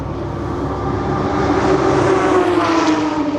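A Corvette race car roars past at Sebring, a loud, sustained engine drone that swells as it nears and passes close by, with no voices.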